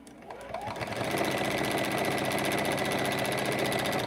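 A sewing machine stitching fabric starts up after a brief pause and runs in a fast, steady mechanical rhythm, close and continuous to the end.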